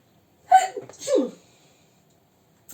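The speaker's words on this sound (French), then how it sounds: "Je vais éternuer, je crois" One sharp sneeze close up, a quick intake followed by a burst, then quiet.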